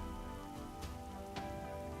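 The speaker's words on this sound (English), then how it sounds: "the rain really goes right through us" Steady rain falls in a Fate/Grand Order game scene, a dense, even hiss of drops on surfaces with a couple of brief louder splashes and no talking.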